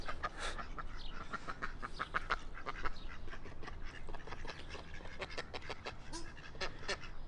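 A flock of ducks quacking continuously, many overlapping calls at close range, busy and chattering throughout.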